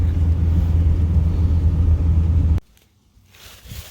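A 12-valve diesel truck cruises at part throttle, a steady loud low rumble with a deep droning hum that cuts off abruptly near the end, leaving faint quiet noise.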